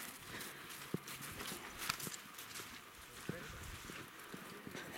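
Horses walk along a path in Switzerland, their hooves clip-clopping in an irregular, moderately close pattern under a breezy outdoor background, with faint voices in the mix.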